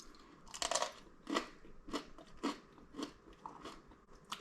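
Crisp crunching bites into the crunchy crust of a dense rye flour soda bread, several sharp crackling crunches in irregular rhythm, close and clear with no talking.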